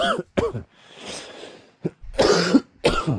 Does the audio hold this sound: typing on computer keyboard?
no